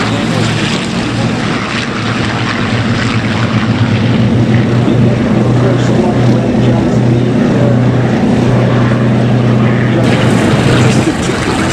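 Propeller engine drone of a P-51 Mustang flying at the Duxford Flying Legends airshow, a steady loud rumble with strong low harmonics that holds throughout, crowd noise faintly underneath.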